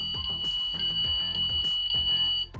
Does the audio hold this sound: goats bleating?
no